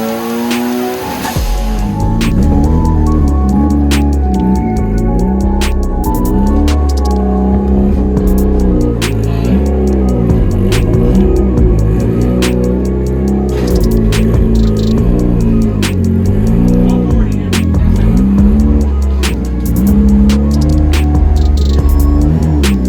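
A high-compression turbocharged 1.6L Mazda Miata engine runs hard on a dyno, loud and close throughout, its pitch rising and falling steadily with no talking.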